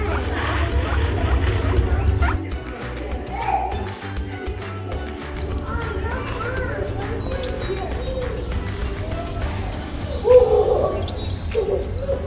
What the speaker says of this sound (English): Oh, look at the big parrots here.